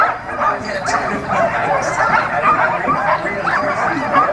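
Sled dogs in Fairbanks, Alaska, yipping, barking and whimpering in an excited, continuous chorus close by, along with some indistinct human chatter.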